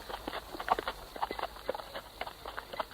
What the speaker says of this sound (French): le cheval de Dombey fait un faux pas et son cavalier tombe à terre